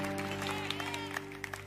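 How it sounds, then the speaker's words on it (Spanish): A church congregation applauding, steady crackling claps with a droning hum from a sound system underneath. "me encanta cuando aplauden esto"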